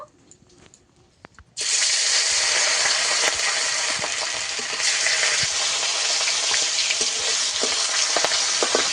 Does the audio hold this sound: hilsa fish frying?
yes